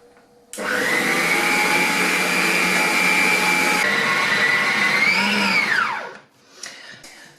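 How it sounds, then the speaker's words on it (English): An electric mixer runs to combine doughnut dough ingredients with frothed yeast, a loud steady motor whine for several seconds that winds down with a falling pitch as it switches off. "Now I'm going to mix it all together."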